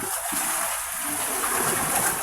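Choppy, mixed sea waves splash around a small fishing boat, a continuous wash of spray and water noise without talking.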